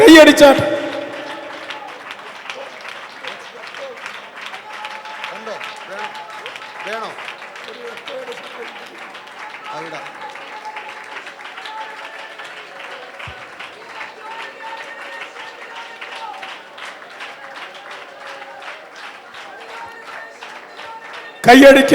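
A prayer-meeting congregation claps along in praise, many hands making a fast, even rhythmic patter that holds steady for a long stretch, with a louder burst of voices at the start and again at the end.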